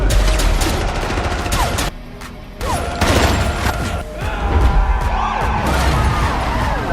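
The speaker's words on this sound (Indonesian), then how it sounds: "Open fire!" Heavy gunfire from police and SWAT in a movie action scene, loud bursts of automatic fire and crashes in dense volleys with a brief lull in the middle before shooting resumes.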